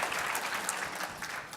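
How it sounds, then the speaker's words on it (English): A summit crowd at a university talk gives a full, even round of applause, many hands clapping together throughout with no speech on top. "come on, that deserves an applause"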